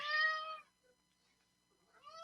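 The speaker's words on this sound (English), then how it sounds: "Cat. It's a big black one." A big black cat meows in a loud, drawn-out cry close by, then falls quiet before starting another meow at the end.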